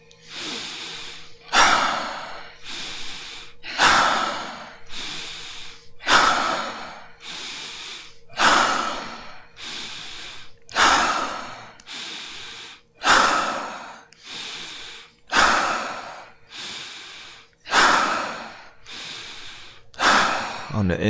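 Deep stomach breathing exercise: a long run of forceful, rhythmic breaths, each a sharp loud intake or exhale roughly every one to one and a half seconds, close and alone with no talk.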